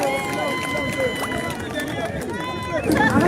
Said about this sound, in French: Les applaudissements pour Longueur